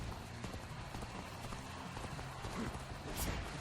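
A horse gallops in Dynasty Warriors Origins, rapid clip-clop hoofbeats thudding steadily beneath game battle noise and a person talking over it.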